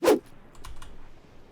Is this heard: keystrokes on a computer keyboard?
yes